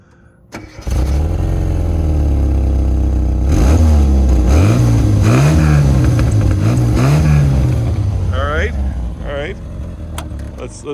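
A Classic Mini car's engine starts up and then runs loud and close, climbing through several rising and falling revs before settling back to a steady idle.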